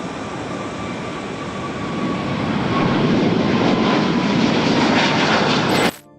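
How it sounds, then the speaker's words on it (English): Boeing 777 jet engines roar on takeoff down the runway: a loud, steady, broadband rumble and whine that builds over several seconds, then cuts off abruptly. "As it rolled down the runway, the engines roared to life, pushing the massive jet forward with immense power."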